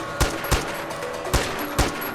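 Gunfire in the video game Far Cry 4 comes as four sharp, loud shots spaced unevenly over a couple of seconds, with steady background game noise between them.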